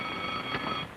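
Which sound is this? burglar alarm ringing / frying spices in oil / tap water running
burglar alarm ringing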